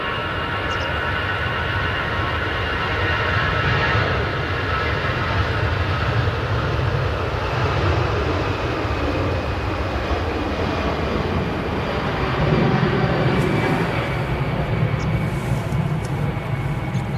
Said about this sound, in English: we have this EasyJet A320